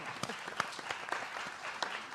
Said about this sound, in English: one applause for Sarah, please.